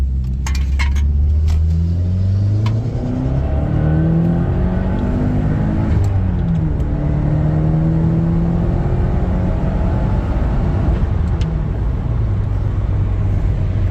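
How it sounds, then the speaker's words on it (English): Subaru WRX with a misfire and stalling issue revs hard at full throttle, the engine note climbing and falling in repeated sweeps, loud and close with no talk. "Let me do another full throttle rip here."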